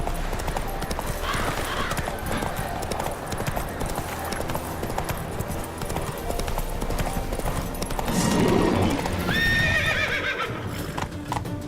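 Horse hooves gallop in a steady, fast clip-clop rhythm in The Witcher 3, with game ambience underneath and a loud whinny near the end.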